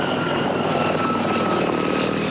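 French army helicopters over a crowd of protesters, a loud, steady rotor and engine drone with no distinct gunshots.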